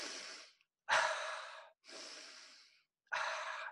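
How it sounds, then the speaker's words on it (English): Four long, breathy nasal breaths sound close-up, alternating in an unhurried rhythm with short silences between them, and no talking. "Should we be exhaling through our nose as well?"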